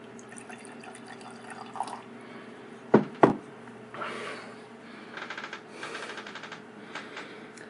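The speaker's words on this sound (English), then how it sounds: "let's pour a sample and check it out." Wine poured into a glass for a tasting of Chateau Imperial Tokaji, heard as a sparse run of drips, two sharp close clinks and soft trickling splashes, fairly quiet with no talking.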